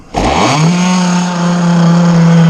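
A Zenoah 30cc chainsaw engine fires up and runs loud and close, a steady buzzing drone held while its idle is being adjusted.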